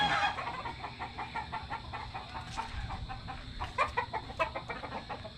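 Several chickens cluck in quick, repeated bursts, close by and fairly quiet, with soft rustling underneath.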